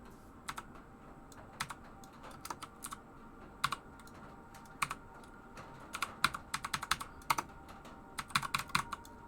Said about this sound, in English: Half of my keyboard is not working.